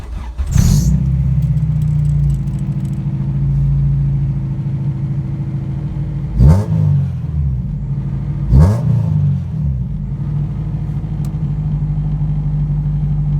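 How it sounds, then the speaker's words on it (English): A Honda Integra engine idling after a Walbro 255 fuel pump install: a steady, loud, close rumble lasting throughout, with a few brief sharp rises near the start and middle, no talking. "she's running great with the new fuel pump"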